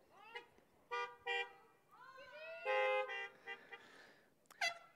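Several car horns honking in a parking lot during an outdoor church service, a scattered series of short and longer toots at varying pitches, some overlapping, near and fairly loud against a quiet background.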